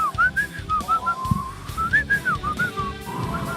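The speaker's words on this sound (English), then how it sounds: "Trust me, I can whistle." A person whistles a wavering, looping melody, close and clear, with soft background noise underneath.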